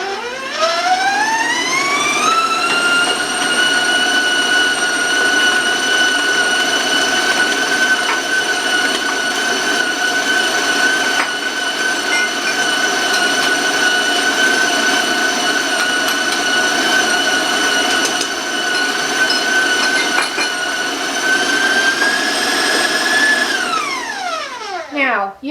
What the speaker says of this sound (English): Now I'm going to just turn up my mixer,